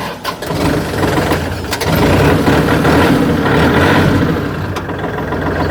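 A used farm tractor's diesel engine, logged at 1,819 operating hours, runs steadily and loudly up close with a rough, continuous idle rumble throughout.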